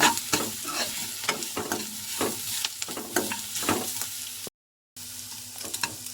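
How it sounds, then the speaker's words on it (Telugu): A small cup of carrot fries in a pan for carrot rice. It sizzles steadily while a spoon scrapes and stirs in a quick, repeated rhythm, close and fairly quiet, with one brief dropout to silence. "ఒక చిన్న కప్పు క్యారెట్ అయితే వేసుకుంటాను ఇదిగోండి పచ్చివాసన పోయేంత వరకు వేయించుకోవాలి"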